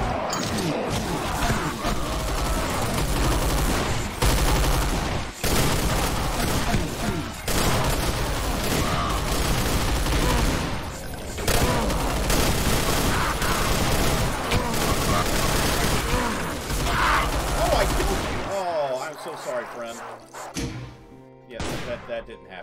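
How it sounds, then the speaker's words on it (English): Nonstop gunfire and heavy explosive thuds fill a Doom 2 Project Brutality battle against spiders, loud and dense for most of the stretch before cutting to quieter game sounds near the end. "We're going to use guns, though. and lots of guns, I might add."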